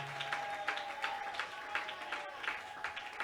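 A church congregation claps in rhythm during a sermon, steady repeated bursts of applause at moderate distance with no talking.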